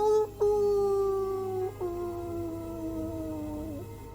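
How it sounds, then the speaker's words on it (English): Distant howling of wolves or dogs on a windy, chilly night, long sustained tonal wails that waver and slide, several overlapping voices rising and falling from far off. "It sounds like howling of some sort. Not very close, but in the distance."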